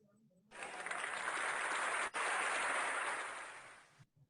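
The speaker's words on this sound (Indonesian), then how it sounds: "Mari kita berikan tepuk tangan yang meriah untuk Mem Ames." Applause at an Indonesian small-business e-marketing event, a burst of clapping that starts abruptly, holds steady and fairly loud for about three and a half seconds, then cuts off.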